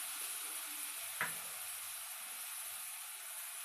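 Masala mixture for mushroom pulao frying in a pan, a quiet steady sizzle and hiss with one brief stir or scrape partway through, no voices.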